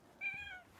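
A cat gives one clear, fairly short meow close by in a quiet room.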